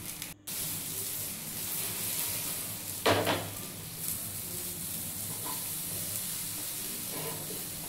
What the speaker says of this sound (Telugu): వంకాయలు బాగా ఉడికి కొద్దిగా బ్రౌన్ కలర్ షేప్ వచ్చే వరకు మనం 2 సైడ్స్ బాగా వేయించుకోవాలి